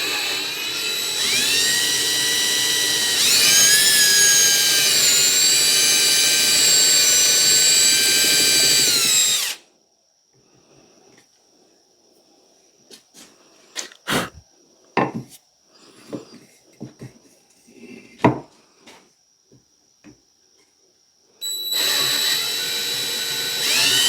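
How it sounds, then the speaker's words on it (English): Power drill boring a hole through wood for a mini vise French cleat insert, loud high whine for about ten seconds, then quiet with scattered knocks and handling, then the drill starts again. "we're going to stop just shy of this drill plunging all the way through"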